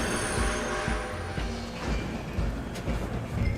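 Steam train running in the video game Red Dead Redemption 2, a loud continuous rumble with rhythmic wheel clatter and squealing rails, close up, with no talk.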